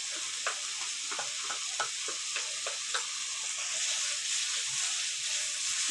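Ginger and green chili paste frying in oil in a pan for prawn malai curry, a steady bright sizzle with soft rhythmic taps of stirring throughout, close and even.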